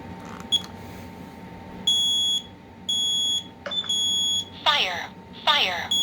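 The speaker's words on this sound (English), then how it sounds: "This is dual smoke and combination smoke and carbon monoxide." A 2007 ionization-type combination smoke and carbon monoxide alarm emits loud, shrill electronic beeps in a repeating pattern, followed by the alarm's synthetic voice announcing warnings.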